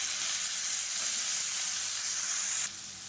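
Chopped tomatoes, green chilies and curry leaves sizzle steadily in a hot pan for kulambu, a continuous bright hiss with no voices, easing slightly toward the end.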